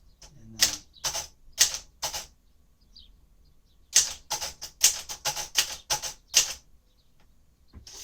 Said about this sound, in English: 1957 Royal Aristocrat French typewriter